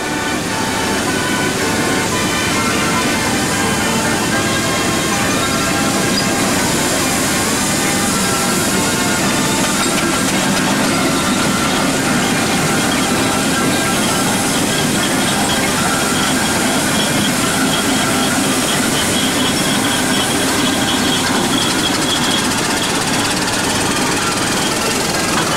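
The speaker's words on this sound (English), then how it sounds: "We've got a lovely collection of road rollers coming in now" Steam road rollers drive past at the Great Dorset Steam Fair, a loud continuous rumbling, clattering roar that holds steady throughout without a break.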